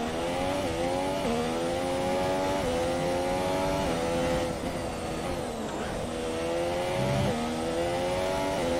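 A Formula One car's engine revs hard in the F1 2017 racing game at the Malaysia circuit, a loud, steady whine whose pitch climbs and drops repeatedly through gear changes, with no voices.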